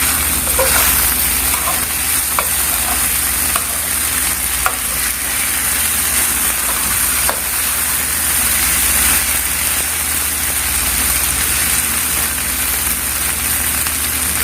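Okra and karela sizzle steadily in a pan with curry powder, a loud, even hiss with occasional faint scrapes and clicks from stirring, close and continuous with no talking.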